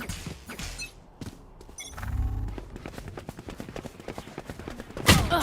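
Judge shotgun fire in a tactical shooter video game, a cluster of sharp gunshot bursts with thuds amid busy game action, with a louder close blast near the end.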